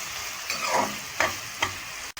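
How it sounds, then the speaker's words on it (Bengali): Spiced food with salt, cumin powder and a pinch of sugar frying in a pan, with three soft scraping stirs over a faint steady sizzle, close by and fairly quiet. "এবার একটু নেড়ে নিলাম।"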